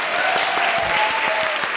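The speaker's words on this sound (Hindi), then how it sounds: "आज जोरदार तालियां इनके लिए भाई।" Steady, dense applause from a comedy show's studio audience, a loud even wash of clapping that fills the whole moment, with a faint voice barely audible beneath it.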